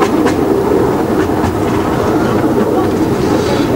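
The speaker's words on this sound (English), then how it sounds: "we're on the train." Cleethorpes Coast Light Railway train running along the seafront, heard from on board as a steady, loud rumble with rhythmic clickety-clack of the wheels on the rails throughout.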